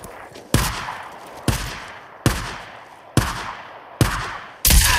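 Gunfire from the video game Days Gone rings out as six loud, sharp shots spaced about a second apart, each leaving a decaying echo, with no talk over them.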